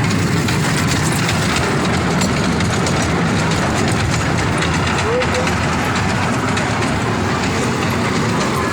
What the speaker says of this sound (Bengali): ট্রেন স্টার্ট হয়ে গেছে।